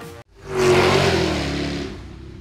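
A Jaguar XKR-S GT's engine revs hard after a brief cut, rising to a loud, close roar that holds and then eases slightly as it settles.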